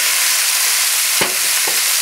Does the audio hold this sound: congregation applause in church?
no